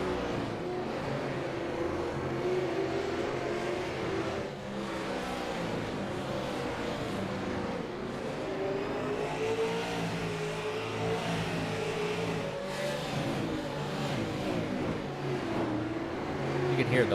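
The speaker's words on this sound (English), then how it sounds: "You can hear the wind off of those cars when they zoom by." Race car engines roar and rev steadily as the cars race by at Hickory, a continuous loud drone with surging pitch, mixed with talking.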